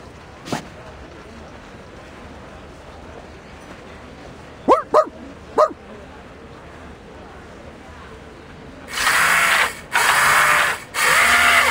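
Dog in the Reverse 1999 video game, giving a few sharp barks midway, followed by loud mechanical ratcheting bursts from robots, with soft background ambience.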